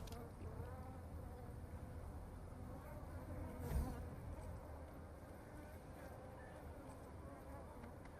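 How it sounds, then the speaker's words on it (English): Bees in Evil Genius 2 hum as a faint, steady swarm buzz under low game ambience, with one brief louder blip midway. "Well, got bees."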